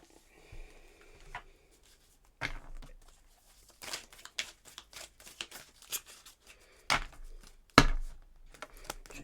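Tarot cards being shuffled make intermittent papery rustles, slaps and crinkles in short irregular bursts, fairly close and quiet, with some sharper snaps toward the end.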